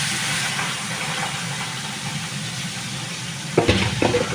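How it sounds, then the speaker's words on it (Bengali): Prawns fry in a pan for a taro dish, giving a steady, even sizzle throughout, with a couple of brief clinks near the end. "চিংড়ি মাছগুলো ভেজে নিই"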